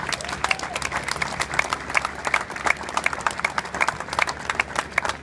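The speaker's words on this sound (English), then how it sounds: "So please join me in a round of applause for them." A crowd gathered outdoors on a chilly morning for the 2016 Boston Walk for Life applauds the event committee, with a steady patter of many hands and some distinct, sharper claps, at a moderate distance.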